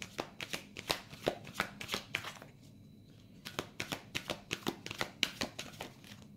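Tarot cards being shuffled by hand in quick, crisp riffling bursts with a brief pause midway, close and fairly quiet, no talking.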